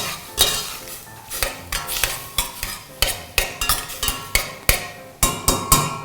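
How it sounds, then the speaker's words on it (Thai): Fish being stirred in a pot of hot water for a Thai fish curry, with a utensil scraping and clinking against the pot in a steady rhythm of close, sharp strokes and no talking. "ตอนนี้น้ำนะฮะร้อนพอแล้วเราก็เอาปลาลงไปลวนได้เลย"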